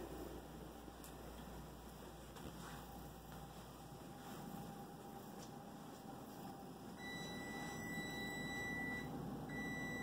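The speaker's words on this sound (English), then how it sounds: "Every day when the timer goes off on the stove, Claudius runs to the stove" A stove timer beeps with steady, high electronic tones over low background rumble, growing louder and more insistent toward the end.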